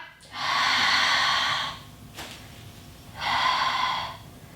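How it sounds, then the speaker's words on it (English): A person doing supine Pilates exercises exhales loudly and forcefully twice, each breath a long, close, breathy rush lasting over a second, with a short catch of breath between them. "Breath out."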